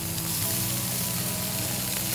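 Small fish sizzle loudly on a charcoal hotplate as they are flipped, a dense, even frying hiss held throughout at close range with no talking.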